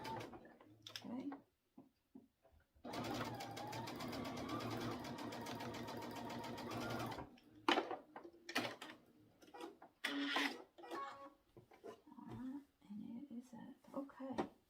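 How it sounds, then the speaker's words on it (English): A sewing machine stitches quilt binding pieces together in one steady whirring run of about four seconds, framed by quiet speech and handling noises before and after. "we're done sewing them together"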